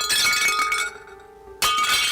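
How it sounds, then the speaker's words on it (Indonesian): Glass struck with an iron rod and shattering as a story sound effect: a bright crash with clinking shards that fades into a near-silent pause, then a second sharp burst of breaking glass. "Abu Nawas dengan tenang dan leluasa memukul kaca itu hingga pecah"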